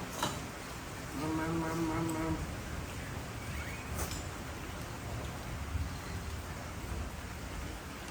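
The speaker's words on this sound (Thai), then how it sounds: "ฝนตกแล้วเย็นมาก" Steady rain falls in a continuous hiss while people pick vegetables outdoors, with a brief voice and a low hum early on.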